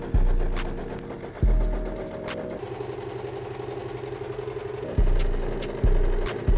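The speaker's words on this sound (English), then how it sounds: "Now we can finally take a look at sewing the legs on." A sewing machine stitches front panels onto skinny jeans legs, running in several loud mechanical bursts with a steady whirring drone between starts and stops.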